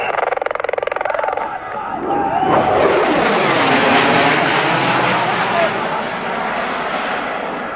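An RCAF CF-18 Hornet demo jet roars past at an evening airshow in London, Ontario, a loud sustained jet rumble that swells and sweeps by in a Doppler shift over a crowd.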